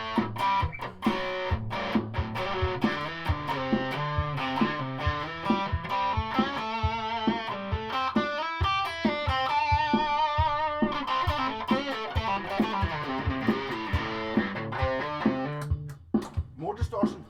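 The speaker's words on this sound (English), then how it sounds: "More distortion, the high fuzz pedal." A heavily distorted, fuzzy electric guitar through a high fuzz pedal plays a chugging riff with sustained chords, loud and close throughout.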